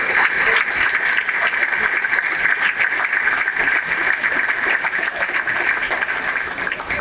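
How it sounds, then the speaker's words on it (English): A hall of fame banquet audience gives sustained, loud applause for a special award to the Grizzlies at a football induction ceremony, dense and continuous, slowly tapering near the end. "let's have a round of applause for this special award for the Grizzlies"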